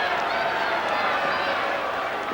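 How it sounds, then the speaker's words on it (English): A cricket crowd at a 1980 New Zealand versus Australia match cheers steadily, a broad continuous roar of many voices rising for Rodney Marsh's big hit. "The crowd on their feet for Rodney Marsh."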